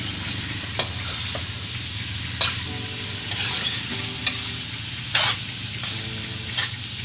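Freshly picked bitter gourd (ampalaya) from a small home garden stir-fries in a pan, with a loud, steady sizzle broken by periodic scraping and stirring clatters of the utensil.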